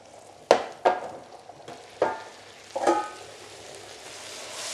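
Onions frying and caramelising in a pan, a low sizzle under four or five sharp metallic knocks and scrapes of a utensil against the pan, close and spaced out, with no talking.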